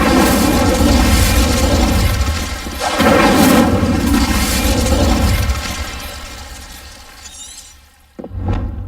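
An Incendio fire spell cast in Hogwarts Legacy bursts out as a loud, sustained roaring blast that slowly fades, cut short near the end and followed by a brief sharp crack.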